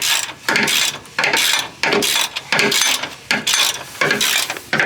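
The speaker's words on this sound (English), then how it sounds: "we'll take off the other bolts left over on the white pipe" A ratchet wrench loosens exhaust bolts under a Nissan 350Z during a Tomei exhaust install, firing off repeated loud, close bursts of rapid clicking with short pauses between them.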